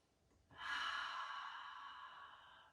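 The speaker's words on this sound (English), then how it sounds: "Big full deep breath" One long, soft breath is drawn in and let out during a gentle beginner yoga class, a breathy rush that starts suddenly and fades slowly, close and quiet with no talk.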